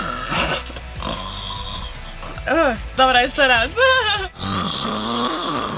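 A voice imitates snoring in a dubbing booth for the Polish dub of the 2018 animated film Książę Czaruś, giving several drawn-out, pitched snore-like groans and snorts mid-clip, with brief speech before and after.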